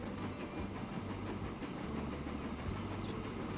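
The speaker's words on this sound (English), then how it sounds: "Our Eastern Corridor train is on his way up." Train rolling on rails in Transport Fever 2, a steady, continuous rumble with faint rhythmic clickety-clack from the wheels, moderately loud and unbroken, with no talk.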